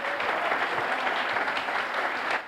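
Church congregation applauding together at a preaching service, a steady dense wash of clapping at full strength from start to finish, with no voices standing out.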